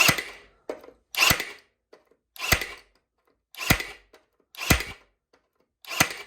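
Six sharp shots from a Ridgid cordless 18-gauge brad nailer driving 2-inch nails into 3/4-inch birch plywood, each a loud close crack with a short mechanical whir, spaced about a second apart in single-shot mode.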